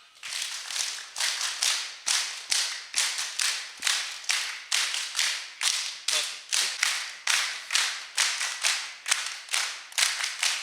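A crowd at an alcohol de-addiction camp gathering in Vinayaka Nagar, Punchappady, claps in a tight, steady rhythm at the close of a speech, around two dozen evenly spaced, sharp, loud beats with no talking.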